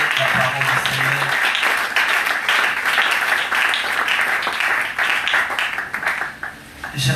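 A church congregation applauding, dense sustained clapping that fills the room loudly and steadily, with voices mixed into it, easing off slightly right at the end.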